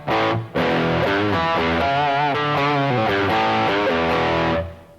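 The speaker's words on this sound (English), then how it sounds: "crunch tone is basically a clean sound with a little bit more dirt or distortion on it." An electric guitar with a crunchy, mildly distorted tone plays a short chordal phrase, loud and alone, after one brief opening strum.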